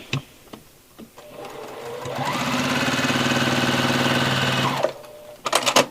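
Sewing machine stitching binding onto a quilt with 60-weight glide thread and a seam-aligned foot: a soft click or two, then a steady close whirring run of about three seconds that stops and is followed by brief handling clicks.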